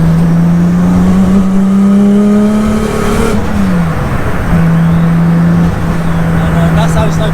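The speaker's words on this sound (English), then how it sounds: "it is a really loud car" A 700bhp Nissan Skyline with a loud exhaust roars hard in fourth gear as it accelerates, the engine note rising steadily, dipping briefly and then droning on at a constant heavy rumble heard from inside the car.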